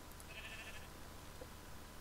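A sheep bleats faintly in a blocky video-game island survival world, one short thin cry over a soft steady background.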